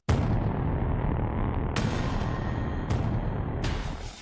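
Several deep, low booms from a sound-effects library, each a sharp onset with a long rumbling decay, spaced a second or so apart and loud against a dense low-end wash.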